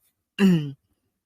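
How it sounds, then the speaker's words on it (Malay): A single short, voiced throat clearing from a man sitting close by, loud and distinct against otherwise near-silent surroundings. "Jadi saya macam terbatuk-batuk sikit malam ni."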